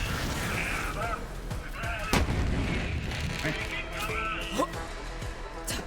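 A charged gun firing in the video game Borderlands 3, with booming shots and blasts set against busy game effects and music while a person talks over the action.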